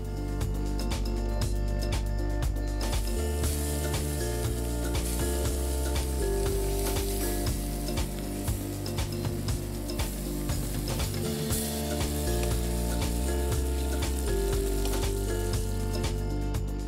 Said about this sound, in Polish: Mięso podsmażę w garnku na złoty kolor.